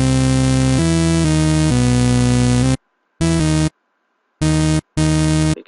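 Dark, heavy dubstep synth programmed in an FL Studio piano roll: a loud, dense, distorted bass chord that holds for nearly three seconds, then cuts into short stuttering blasts separated by abrupt silences.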